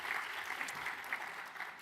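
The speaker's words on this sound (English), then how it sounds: "So I'd like everyone to give a warm word of applause to Hannah for helping so much in sharing and" An audience at a European Universities Initiative forum applauds after a morning session, producing a brief, steady patter of many hands clapping at moderate volume throughout.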